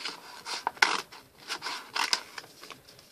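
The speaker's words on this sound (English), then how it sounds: "Then you just cut." Material is cut with scissors to make an earring organiser, giving several close, quiet snipping and rasping strokes in short bursts with brief pauses between them.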